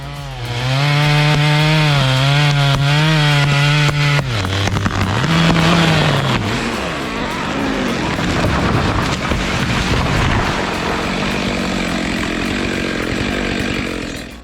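A Stihl MS 462 chainsaw cuts into a tree, first a loud steady high revving whine, then the pitch drops and turns rough and grinding as the chain bites the wood, continuous and close for the whole stretch.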